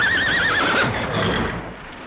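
A horse neighs in a long, wavering whinny for a radio play set in a storm, loud and close, fading into a softer trailing rumble.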